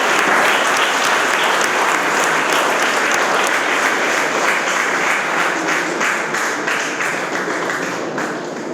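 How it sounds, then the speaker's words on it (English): Sustained audience applause at the Prabodha 2024 April edition event, a dense, steady wash of many hands clapping that carries on throughout and fades slightly toward the end, with no talk over it. "A big round of applause, please."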